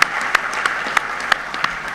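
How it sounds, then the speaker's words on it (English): At a workshop, an audience gives a round of applause, heard as a sparse, fairly even run of sharp claps standing out over a soft background hiss. "I want you to give her a round of applause just for that."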